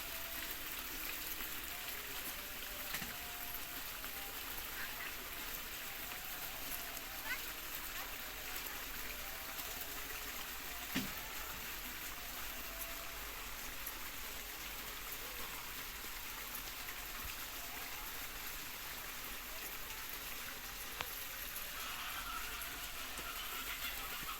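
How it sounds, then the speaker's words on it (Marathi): Water running in a channel beside an outdoor stone stove in a village, a steady faint rushing wash throughout with occasional small clicks and knocks. "तिकडे पाणी चालू आहे"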